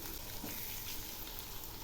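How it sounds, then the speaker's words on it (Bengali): Eggplant pieces and onion sizzle together in a pan, a dense, even hiss of frying that stays steady throughout with no voices. "এখন এই পেঁয়াজের সঙ্গে বেগুনগুলো খুব ভালো করে ভেজে নেব।"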